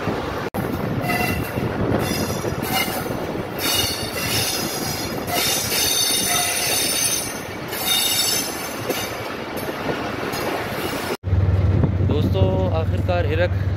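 A train crossing near Hirok railway bridge on the Quetta line, with loud, steady rumbling and squealing wheels heard from on board, then an abrupt shift to a quieter hum near the end.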